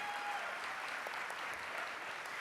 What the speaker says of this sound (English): If I can go down the list real quick with a round of applause for each one of them